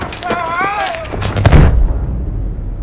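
Heavy gunfire bursts with sharp booming impacts from a Battlefield 5 match, loud and close, while a player talks over the first shots.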